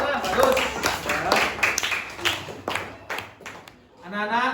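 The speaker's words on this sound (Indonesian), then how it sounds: "Tepuk tangan untuk kelompok 4 Tiara." A classroom of schoolchildren claps for a student group during a lesson, with scattered, uneven claps mixed into a continuous stream of nearby voices talking over them.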